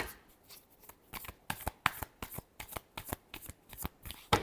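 Tarot cards are shuffled by hand in a quick run of crisp, papery riffles and slaps, roughly a dozen close bursts in an uneven rhythm, heard alone in a quiet room.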